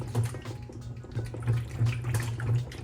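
Water sloshes inside the balance ring of a washing machine drum, a soft, liquid swishing that rises and falls in rhythmic surges, faint and close.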